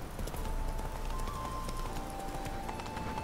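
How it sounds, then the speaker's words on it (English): Roach the horse's hooves clip-clopping at a steady trot in The Witcher 3: Hearts of Stone, a quiet, even run of hoof beats over a faint tonal game background. "Get on the horse, damn it."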